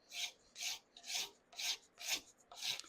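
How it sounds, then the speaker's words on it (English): A hand wood scraper smooths a carved guitar neck in six even, rhythmic rasping strokes, close and clear, with short gaps between each pass and no talking. "I really like a scraper because it leaves a smooth surface"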